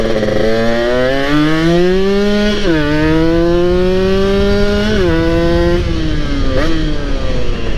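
A Kawasaki Ninja motorcycle with a swapped Superkips block engine revs hard and close, its tone climbing and dropping in repeated throttle blips that form several rising-and-falling waves with no talk.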